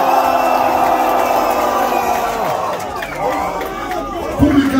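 A live rap battle audience shouting and cheering for battle rapper MLK, a loud, mixed crowd roar with overlapping voices that shifts and swells near the end.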